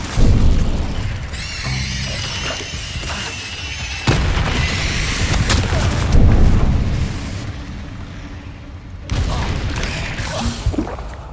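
Repeated fiery spell blasts from Confringo in Hogwarts Legacy, loud booming bursts with whooshing hiss and crackle, several impacts in quick succession over a continuous rumble, no talk.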